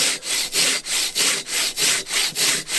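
A Silky Katanaboy 500 folding saw cuts through wood in steady pull strokes, about one rasping stroke every third of a second, loud and close with no voices.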